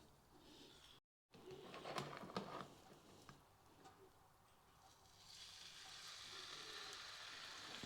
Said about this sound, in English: You hear that sizzling? Perfect.